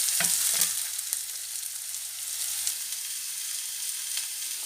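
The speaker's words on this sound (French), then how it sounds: "on a fait suer nos oignons" Onions and garlic sweat in a frying pan for a beef and carrot stew, giving a continuous close sizzle with a couple of soft stirring knocks near the start.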